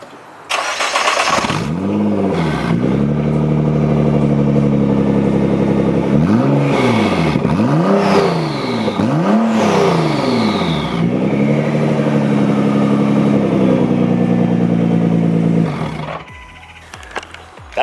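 A Nissan GT-R run with no mid-pipe: its engine starts up, then revs sharply several times, each rev rising and falling in pitch, over a loud raspy idle. The sound is close and steady throughout, with no talk.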